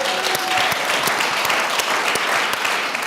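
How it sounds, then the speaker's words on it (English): Applause for musicians at a community summit, a dense, sustained crowd clapping with crisp individual claps, loud and steady throughout. "let's give another round of applause to the musicians"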